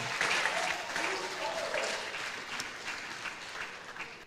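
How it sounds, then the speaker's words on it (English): Audience applause at a talk, a steady wash of clapping that holds fairly even for several seconds and then slowly thins out, with a little talk mixed in underneath. "can we give him another round of applause?"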